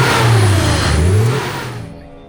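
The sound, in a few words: car engine running with a worn clutch fan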